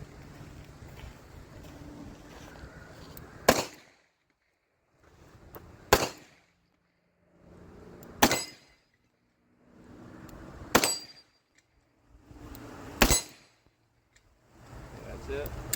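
A Smith & Wesson 642 .357 double-action revolver fires five loud, sharp shots at an outdoor range, spaced about two and a half seconds apart. Between the shots there is quiet background noise.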